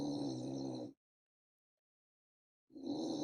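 A French bulldog snores faintly nearby, with two rough, low breaths separated by a silent pause of almost two seconds.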